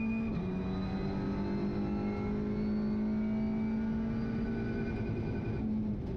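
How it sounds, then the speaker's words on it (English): An Audi RS3 LMS TCR race car accelerates at full throttle at Circuit Zandvoort, heard onboard as a strong, sustained engine howl that climbs steadily in pitch after a brief dip at the start. "Three quarters, build up the throttle and full speed up to the Hans Ernst corner."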